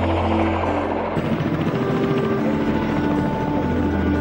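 A Kamov Ka-8 helicopter flying, a steady loud rotor and engine drone with a low throbbing hum, continuous throughout with no talk.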